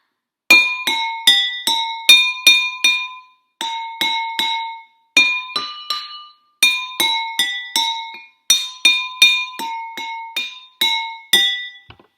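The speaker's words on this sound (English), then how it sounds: "Was it Mary Had a Little Lamb?" Mary Had a Little Lamb is tapped out note by note on a homemade xylophone, each bright glassy strike ringing briefly in a steady melodic rhythm with short pauses between phrases.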